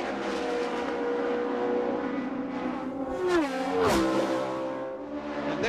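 IndyCar race car with a 90-degree crank engine at the 2000 Delphi Indy 200 on the Walt Disney World Speedway, a low, throaty engine roar building loud as the car sweeps past at speed, with engine drone continuing throughout.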